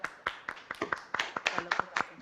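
A small audience after a science lecture gives sparse, uneven applause, a few distinct hand claps in quick irregular succession, fairly faint and close.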